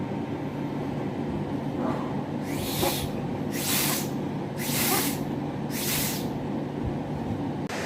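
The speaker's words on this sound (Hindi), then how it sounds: "एक छोटी सी असेंबली यहाँ पर हमने बनाई और ये यहाँ पर एक स्प्रे पंप की तरह कार्य करेगी" A small improvised spray pump assembly blows air in four regular hissing bursts of about a second each, loud and close over a steady background hum.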